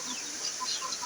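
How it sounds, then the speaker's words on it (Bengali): A large farm rooster gives soft, intermittent clucks, faint against a steady background hiss, with no voices present. "সবচেয়ে বড় মোরগ।"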